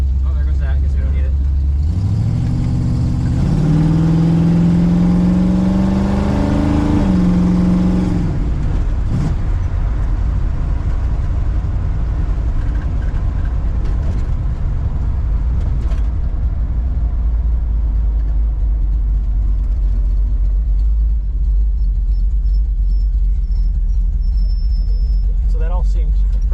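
A 1965 Ford Mustang with a 347 stroker small-block Ford V8 fires up and settles into a loud, steady idle, with a rising crank-and-rev surge near the start before the lumpy rumble holds close up.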